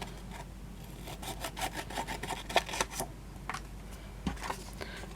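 Cardstock for a tri-fold Z card is cut with a series of short scraping, rasping strokes that arrive in quick bursts, then pause briefly before a few more, close and fairly quiet.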